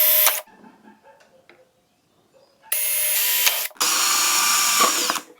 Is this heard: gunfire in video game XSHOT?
no